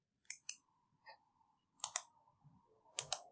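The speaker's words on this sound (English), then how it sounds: "I'm going to click and drag these onto my desktop" Computer mouse buttons click sharply several times while files are dragged, crisp close clicks spaced unevenly over a quiet background.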